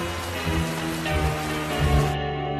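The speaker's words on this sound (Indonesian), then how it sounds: "Ini hujan makin deras." Heavy rain falling steadily on a surface, a dense continuous hiss with a few low rumbling thumps, no voices.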